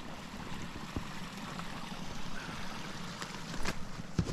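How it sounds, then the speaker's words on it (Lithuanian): A small stream in a snowy forest trickles and burbles steadily at close range, with a few brief knocks and splashes near the end; no one speaks. "Nu, priėjau upelį."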